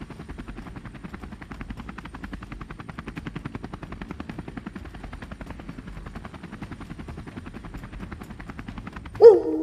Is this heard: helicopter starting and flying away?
yes